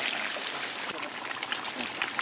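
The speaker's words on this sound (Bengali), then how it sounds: "জলের পানিটা আমরা দিয়ে দিলাম।" Water poured into a pot of fish curry with eggplant and potato, a steady splashing trickle that shifts partway through, with a voice talking over it.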